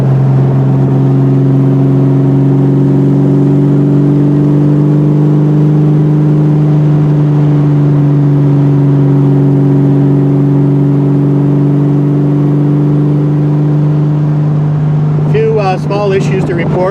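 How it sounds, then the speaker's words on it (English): A 1968 Triumph TR250 engine and exhaust hold a steady, loud drone close by while driving, with a short burst of other noise near the end. "The exhaust sounds amazing."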